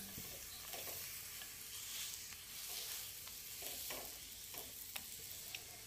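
Ghee-fried paratha crackles and sizzles steadily in a pan during a morning breakfast routine, a low continuous hiss broken by small sharp pops and occasional scraping, with no talking.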